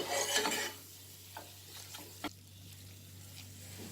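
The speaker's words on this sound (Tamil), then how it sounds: "இப்போ இந்த மசாலா பாருங்கள், நல்லா நெய்யில் வந்து கொஞ்ச நேரம் அப்படியே அந்த ஹீட்டில் இருக்கணும்" Masala being stirred in ghee in a pan, giving a soft continuous sizzle with a few scraping strokes at the start and isolated spoon clicks afterward, close and fairly quiet.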